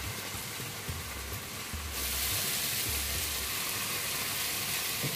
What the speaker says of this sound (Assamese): সেইখিনি দি আৰু অকণমান টাইম ভাজি ল'ম।